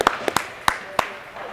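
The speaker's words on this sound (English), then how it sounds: "We'll give him another round of applause." A handful of scattered, sharp claps ring out at a beer league hockey game for an injured player skating off, sparse and uneven rather than a full roar of applause.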